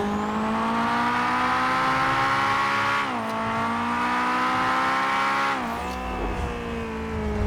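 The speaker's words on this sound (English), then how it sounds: "I like this VTEC sound." A high-revving Honda S2000 engine with VTEC in GTA 5 screams steadily with harmonic whine, pitch dipping briefly during gear shifts, loud and close throughout.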